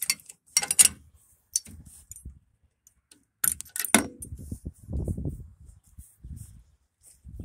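Metal hitch pins pulled from the bottom links of a tractor's three-point hitch on a bush hog, giving a few sharp metallic clinks and jangles in short bursts with quiet gaps and some low rustling handling noise.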